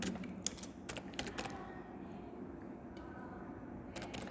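Typing on a computer keyboard: bursts of quick, close key clicks at the start and end, separated by a quieter stretch of low room noise.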